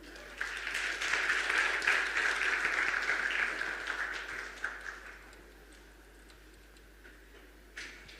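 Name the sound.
audience applause welcoming a speaker on stage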